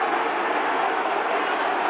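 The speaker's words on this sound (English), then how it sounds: "Crowd getting behind Ulster." A steady, loud roar from the rugby crowd at Ulster against Edinburgh swells behind Ulster's attack near the goal line, a broad sustained wash of cheering with no break.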